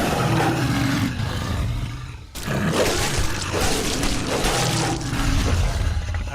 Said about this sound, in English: let me play some of those roars